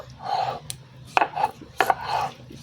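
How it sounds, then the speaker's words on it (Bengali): Ingredients for pangash paturi are ground by hand on a stone grinding slab: rhythmic rasping strokes, close and moderately loud, with a few sharper knocks between them. "এখন পাটার মধ্যে নিয়ে এগুলোকে আমি বেটে নেব।"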